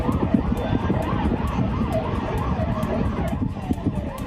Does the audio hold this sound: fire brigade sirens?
yes